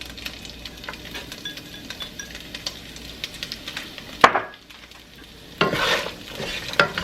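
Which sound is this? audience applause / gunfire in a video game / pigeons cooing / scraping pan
scraping pan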